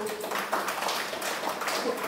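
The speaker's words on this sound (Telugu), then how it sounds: "క్లాప్స్." An audience at a spiritual class gathering claps together, a soft, rapid patter of many hands heard at a distance and fairly quiet throughout.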